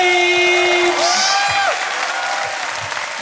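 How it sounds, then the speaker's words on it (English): Theatre audience at a live comedy podcast recording applauding and cheering for the comedian Vic Reeves, a steady wash of clapping with a high whoop, while a voice talks over it. "will you give a massive round of applause to Jim Moir, Vic Reeves?"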